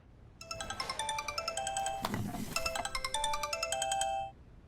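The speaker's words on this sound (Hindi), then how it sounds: "कवल का फोन है, मैं आती हूँ।" A mobile phone ringtone in a film scene plays a quick, bright electronic melody of repeated tones for about four seconds, moderately quiet, then cuts off abruptly.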